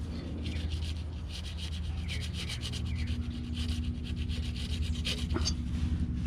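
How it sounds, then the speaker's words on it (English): Sandpaper scrubs rust off a 2016-or-newer Toyota Tacoma brake drum in quick repeated strokes, a close gritty rasping over a low steady hum. "You can use sandpaper to sand a little bit to make sure they all rust come out first."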